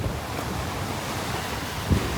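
Sea surf breaking against large boulders placed as a breakwater on the Sri Lankan coast near Colombo, a steady wind-blown roar with one slightly louder wave surge near the end, no voices.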